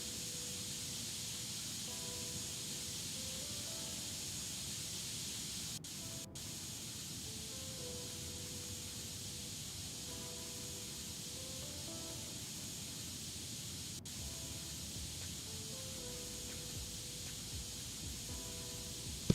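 A continuous, steady spray hiss comes from painting a part in PC Building Simulator 2. Faint tones play in the background and no one speaks.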